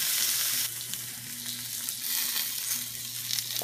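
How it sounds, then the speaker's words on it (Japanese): Thick slabs of fried tofu (atsuage) sizzle and crackle steadily in a hot pan as they brown, a close, constant frying hiss. "これにこんがり焦げ目がつくまで焼いていきます。"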